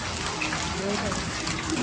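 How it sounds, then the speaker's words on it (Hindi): Large hailstones and heavy rain pound down in a violent storm, a dense, loud, continuous hiss and patter filling the air, with a voice faintly mixed in. "कितनी भयंकर बारिश आ रही है, कितने मोटे मोटे ओले गिर रहे हैं यार।"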